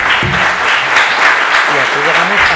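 Strong audience applause for a visiting author at a book event, loud, dense clapping from a crowd filling the whole stretch, with voices speaking over it.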